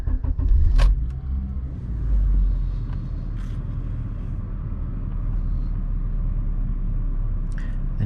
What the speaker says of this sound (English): Let's try starting the car and see.